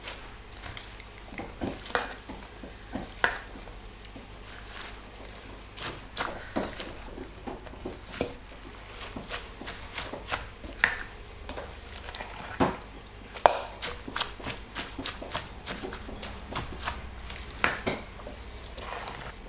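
Raw squid being stirred into a cabbage pancake batter in a bowl, giving wet, sticky squelches and scattered sharp clicks of a utensil against the bowl, steady and close for the whole stretch with no talking.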